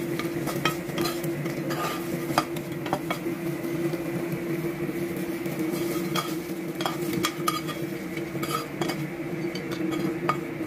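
Pork belly fries in a pan for crispy Filipino sitsarong baboy, giving a steady low sizzle under repeated metal clinks and stirring scrapes, with a constant hum beneath.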